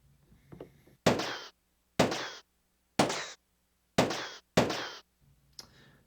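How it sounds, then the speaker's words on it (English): Gunshot sound effect played on a Strich SEP-150 88-key digital keyboard: five sharp, loud bangs with short decaying tails, spaced about a second apart, followed by a fainter sixth hit. "Gunshot."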